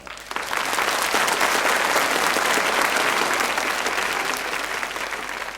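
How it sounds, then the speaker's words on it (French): Applause from a 1982 French TV studio audience fills the whole stretch, dense and steady, rising quickly and holding strong before tapering slightly at the end. "Merci de les applaudir"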